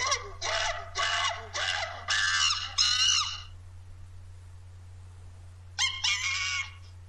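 A run of loud, harsh monkey calls in quick bursts, then a pause of near silence, then one more short burst, over a low steady hum.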